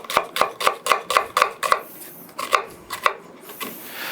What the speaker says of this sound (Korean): 이 하나 반씩 가 있는 거는 다 네모나게 썰어줘요